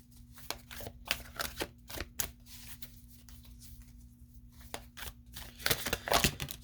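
Clarifying Life Situations oracle cards being shuffled close by, a soft, irregular run of quick papery riffles and flicks against a faint steady hum.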